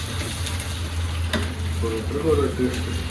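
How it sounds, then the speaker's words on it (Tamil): Masala spices and a little salt fry in oil for a mushroom biryani, giving a steady close sizzle with a few soft stirring scrapes over a low hum; no one speaks. "ஸோ ஆயில் போட்டுட்டு மசாலாஸ் போட்டுட்டு கொஞ்சம் சால்ட் போட்டுட்டு இந்த மாதிரி ஃப்ரை பண்ணிடுவேன்"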